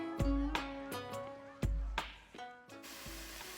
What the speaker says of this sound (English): Stir this around.